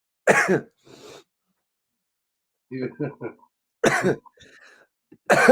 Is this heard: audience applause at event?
no